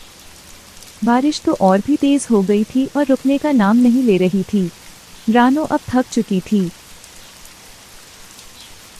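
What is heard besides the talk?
heavy rain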